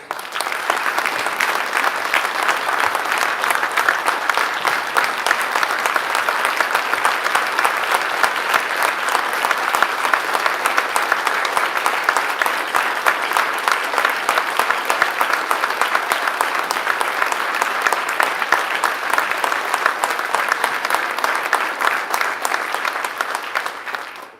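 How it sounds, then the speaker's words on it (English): A luncheon audience gives a sustained round of applause for letter carriers honored as heroes of the year, steady dense clapping from many hands filling the room without a break. "let's give them another round of applause"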